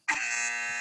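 A quiz buzzer sounds once, a loud steady electronic buzz starting abruptly and holding for nearly a second, alone with no talk.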